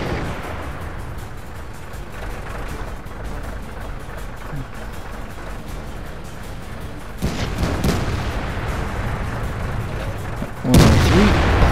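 Tank cannon fire and battle rumble in World of Tanks with a Chi-Ha, heavy booms over steady engine noise, rising louder near the end with a sharp blast.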